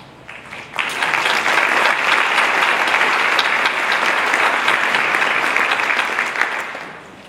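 A large audience at a candidate forum breaks into loud, sustained applause that swells quickly, holds as a thick wall of clapping, then tapers off near the end.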